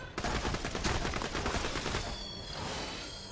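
Automatic weapon fire in Borderlands 2, Tiny Tina's Assault on Dragon Keep, a fast sustained burst of shots for about two seconds that then fades into softer game noise, fairly quiet overall.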